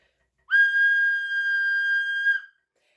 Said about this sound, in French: Pour arrêter les musiciens, le meneur va donner un coup de sifflet.